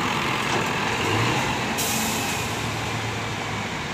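Simpati Star buses roll into a terminal platform with a loud, constant rumbling engine drone, and an air brake hiss partway through sits over the steady noise, close and dense throughout.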